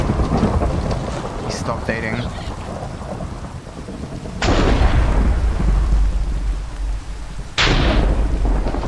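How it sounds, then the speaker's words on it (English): Minecraft lightning bolt summoned with a command, two sharp thunder cracks rolling into rumbles over a rain-like hiss, with a voice talking faintly in between. "Summon a lightning bolt."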